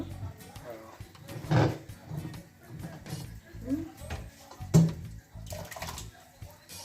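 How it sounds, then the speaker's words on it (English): Cooked pressured peas and water slosh and splash into a pot in a few uneven pours, with clattering, while a person keeps talking nearby. "So once you pour the peas, you want to put it on the fire now."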